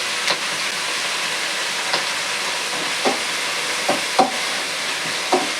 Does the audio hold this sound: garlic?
yes